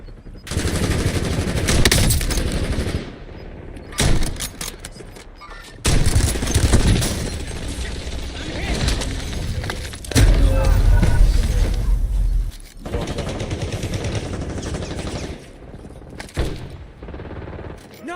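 Video game gunfire in a battle royale match: long bursts of rapid automatic fire and scattered shots come in loud stretches separated by short pauses, with a voice talking at times.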